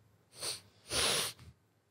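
A voice imitates two quick, breathy nasal sniffs, short and close, with a brief pause between them.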